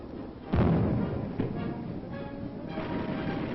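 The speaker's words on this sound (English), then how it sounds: "Next, the visitors watch demonstration firing. Recoilless rifles give the infantry artillery firepower." Recoilless rifles fired at a military demonstration, on an old, muffled newsreel soundtrack: a heavy booming blast, then a couple of further thuds and a lingering rumble.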